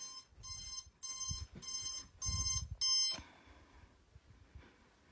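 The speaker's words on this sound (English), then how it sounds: "Oh, there goes my alarm." An alarm clock beeps in a steady series of rapid pulses for about three seconds, then stops, leaving faint background noise.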